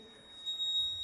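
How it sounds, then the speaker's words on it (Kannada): An electric buzzer in a conductivity test circuit, sounding as a nichrome wire completes the circuit: a steady, faint, high-pitched electronic tone that begins about halfway through and holds to the end. "ಈಗ ಬಜರ್ ಶಬ್ದ ಮಾಡುತ್ತದೆ, ಹಾಗಾಗಿ ಇದು ವಿದ್ಯುತ್ ವಾಹಕವಾಗಿದೆ."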